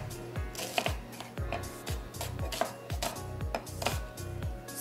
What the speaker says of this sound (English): I'm just gonna go ahead and finish chopping up this onion